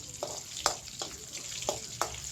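Crushed garlic and curry leaves frying in oil for tomato pachadi, a quiet close sizzle with several sharp spatula clicks and stirring scrapes at irregular intervals.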